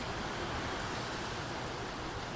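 Water sloshes in a gold pan of concentrated black sands as it is shaken side to side, a steady, dense, noisy wash with no distinct splashes and no talk.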